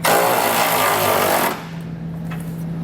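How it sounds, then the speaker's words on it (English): A 24mm socket on a tool tightens a hitch bolt while an etrailer receiver is fitted to a 2022 Lincoln Aviator. A loud, steady mechanical whir runs for about a second and a half, then stops, leaving a low, quiet hum. "I'm gonna use a 24mm to snug down this bolt."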